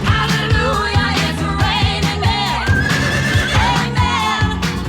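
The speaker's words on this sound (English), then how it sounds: "when Homer tries to get some horse intercourse going, they run into a new problem" A cartoon horse in The Simpsons neighs and whinnies loudly over a bouncy music score, the shrill rising and falling calls standing out above a steady rhythmic backing.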